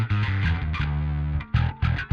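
A bass guitar runs through the Neural DSP Parallax plugin with its distortion turned all the way down and the high and mid bands lowered. It plays a short phrase of soft, rounded low notes, loud and alone.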